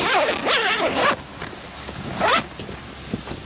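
A zipper is drawn down on the fabric cover of a 2022 Can-Am Commander Max XT-P 1000R side-by-side, with a few quick rasping pulls, close and fairly loud, and no talking.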